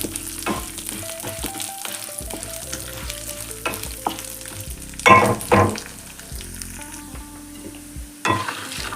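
Urad dal being roasted in a pan for mint chutney, a steady close sizzle with scraping stirs and a few louder metallic clinks of the spoon, no talking.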